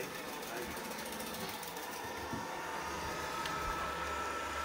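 A Tesvor M2 robot vacuum starts a thorough cleaning run, its motor whirring in a steady, buzzy mechanical drone that stays constant while a person talks over it.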